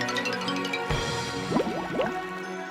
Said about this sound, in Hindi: और जानबूझकर कुल्हाड़ी को नदी में गिरा दिया।